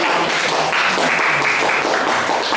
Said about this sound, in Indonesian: Berikan aplaus kepada ketiga kelompok.